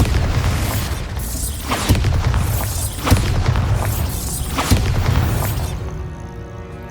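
Spell explosions in the video game Hogwarts Legacy, cast as Confringo and Bombarda: a dense run of loud, booming blasts roughly every second over a continuous rumbling roar, tailing off at the end.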